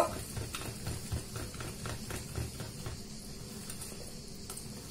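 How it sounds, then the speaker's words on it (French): Coffee chocolate cake batter being stirred in a bowl, a steady close scraping and swishing with faint utensil knocks against the bowl, continuous with no talking. "Alors, je vais mélanger tout ça bien comme il faut."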